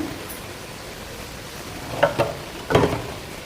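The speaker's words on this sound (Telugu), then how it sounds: "అన్నీ వేసైతే ఆయిల్లో బాగా ఫ్రై చేసుకుందాం" Vegetables for sambar fry in oil in a village kitchen, giving a faint, steady sizzle under a couple of brief scraping stir sounds near the end and no talk.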